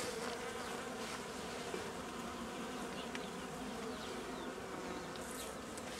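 Dense, continuous buzzing of many honeybees at a hive during colony work, a close, steady drone with occasional individual bees passing near.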